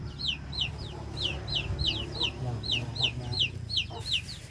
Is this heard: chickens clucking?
yes